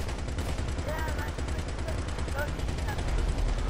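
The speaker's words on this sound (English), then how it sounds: "Oh, I think I got explosive bullets now." Rapid explosive-round gunfire in GTA 5 Online forms a dense, continuous barrage of loud, fast repeated blasts with a heavy low rumble throughout.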